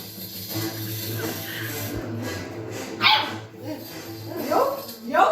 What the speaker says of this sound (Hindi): इसको डर भी लगता है पर सामने भौंकना भी है